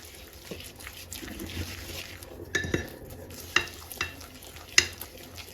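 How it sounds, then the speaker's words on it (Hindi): Nankhatai dough is mixed into a smooth paste, with soft wet stirring sounds and a few sharp clicks and taps of a utensil against the bowl in the second half, fairly quiet overall. "अच्छी तरह से जो है तो इसको मिक्स करना है, एक स्मूथ सा पेस्ट बनाना है"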